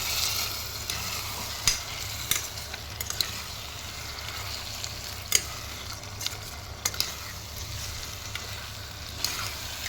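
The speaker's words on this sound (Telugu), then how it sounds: "మటన్ వేసి అన్నీ మిక్స్ చేసేద్దాం." Mutton with onion, green chilli and ginger fries in a pan while being stirred, a constant sizzle overlaid with repeated scraping and clattering strokes of a spoon, close and fairly loud.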